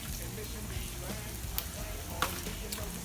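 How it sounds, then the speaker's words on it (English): Chunks of lobster frying in hot oil beside peppers and onions, a dense, steady sizzle with occasional sharp pops and crackles, close and continuous. "I'm gonna start the lobster on this side."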